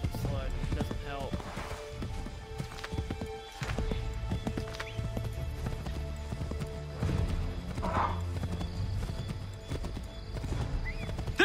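A horse's hooves clip-clop steadily in the video game Assassin's Creed 3, a rhythmic trotting beat with occasional whinnies, heard under game voices shouting directions.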